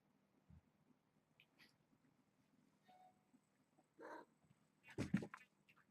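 Kittens meow indoors, at first faint and scattered, then louder in a short burst of several meows and cries close together near the end, over a quiet low hum.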